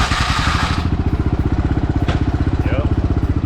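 A motorcycle engine idles with a steady, rapid low thump throughout, loud and close, with a brief sharp click partway through.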